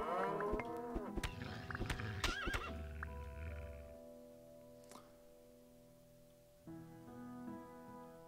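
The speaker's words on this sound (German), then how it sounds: "Oh, da sind ein paar Kühe und ein Eber." Farm animals in the game Keplerth, with cows and a boar nearby: a few whinnying, lowing calls and snorts up close, then quieter stretches with a steady low background hum.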